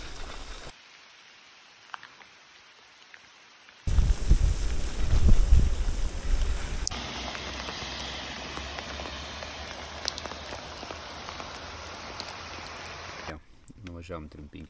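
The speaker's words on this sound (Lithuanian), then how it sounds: "Užklupo lietus. Biškį sulijom." Rain falls on a cycling trip around the Dieveniškės loop, a quiet start giving way to a dense, hissing patter mixed with wind buffeting the microphone, with people talking over it.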